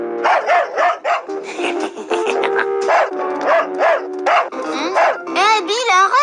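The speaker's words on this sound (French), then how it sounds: "Boule, qu'est-ce qui lui prend à ton chien?" A cartoon dog barks in rapid, repeated yaps and yips, close and loud, with a voice talking between the barks.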